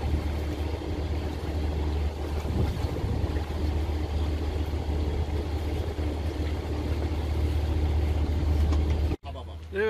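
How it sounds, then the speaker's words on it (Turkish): Steady wind roar and water rushing past a heeled sailboat under sail on open sea, a constant broadband wash with a low engine-like hum underneath and a brief dropout near the end. "hafif yatık halde yelkenle seyrediyoruz"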